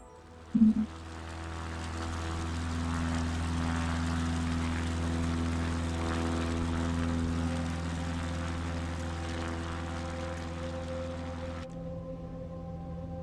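Propeller aircraft engine in the World Photographer Ops video game, a steady, droning hum with strong tonal bands that starts after a short knock, holds evenly for about eleven seconds, then cuts to a fainter drone.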